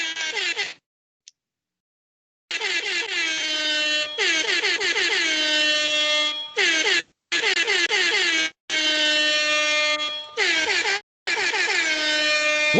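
Air horns blare in long, loud, wavering blasts, stuttering on and off with brief gaps between bursts, repeated over and over with nothing else heard.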